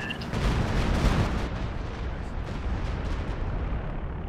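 Mortar and artillery fire in a Company of Heroes 2 four-versus-four battle produces a heavy, rumbling barrage of booms that blend into a continuous low roar, loud and dense with no clear gaps.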